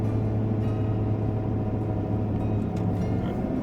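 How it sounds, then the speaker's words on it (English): A RAM Cummins truck with a 5-inch straight-piped exhaust shudders while driving, a constant deep low rumble and drone filling the cab, steady and loud throughout. "Alright, you hear that shuddering?"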